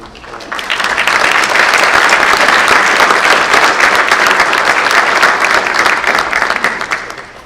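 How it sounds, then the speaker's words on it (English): A large audience at a community vision forum claps loudly for BMW and its staff. Dense, sustained applause swells in, holds strongly for several seconds, then tapers off. "I'd like to start out by giving BMW and their folks a big round of applause"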